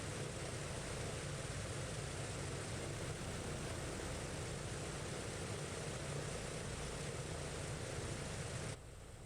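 PMDG Douglas DC-6 piston propeller airliner taxiing in Microsoft Flight Simulator, a steady, loud, dense engine and propeller drone that runs unbroken and alone before dropping slightly at the very end.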